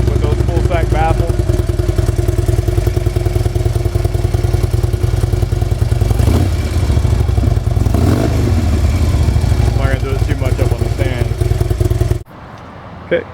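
A Harley-Davidson Screaming Eagle Road Glide, a 2012 model fitted with Fullsac exhaust baffles, idles with a deep, loud, throaty exhaust rumble close by for most of the clip before cutting off near the end.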